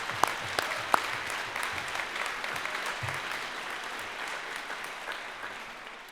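Steady applause from an audience at a concert hall dedication ceremony, a few sharper claps standing out early on, continuing evenly for several seconds without talk.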